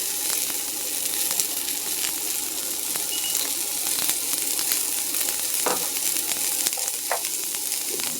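Onions frying in hot sunflower oil in a skillet, a steady, close sizzle that runs unbroken throughout, with a few faint clinks and stirring scrapes on top.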